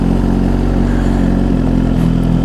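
A motorcycle engine idles loudly and close up with a steady, low, rhythmic thrum and clatter, with no speech.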